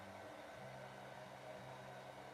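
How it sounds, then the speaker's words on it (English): A small USB computer fan blows air to dry resin-printed parts, giving a faint, steady whirring hum with a soft airy hiss, continuous and unchanging, with no talking. "This is a computer fan. It's a little USB computer fan. It blows air down to dry parts off."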